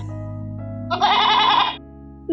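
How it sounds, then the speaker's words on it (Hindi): A goat in an animated Hindi moral story gives one loud, close bleat lasting under a second, heard over a steady low background hum. "ये बकरी कितनी सुंदर और स्वस्थ भी हो गई।"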